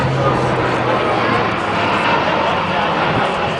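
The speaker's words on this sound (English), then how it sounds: "That's a bloody big plane to be doing that with." A large Spartan military transport plane flies a display at Farnborough Airshow 2010, its engine roar loud and steady throughout as a broad continuous drone.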